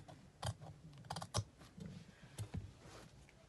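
Scissors snip through fabric while a sweetheart-neckline dress bodice is cut out: a handful of sharp, quiet clicking cuts at irregular intervals, close up, with no talking.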